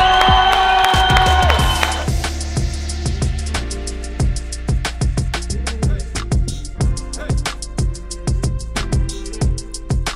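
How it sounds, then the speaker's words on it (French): A crowd applauds and cheers at a day-and-night team golf event, congratulating the first team: dense clapping fades into sparser, sharp individual claps over about ten seconds, close and loud. "un grand tonnerre d'applaudissements pour cette première équipe, les 7 mercenaires"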